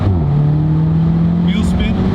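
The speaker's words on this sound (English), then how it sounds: "You really feel the 280 horsepower when you're higher in the revs. Fully accelerate." A Stage 2 tuned Volkswagen Polo GTI 6C hatchback, 280 hp, revs steadily under hard acceleration, its engine tone holding and then climbing near the end, loud and close throughout.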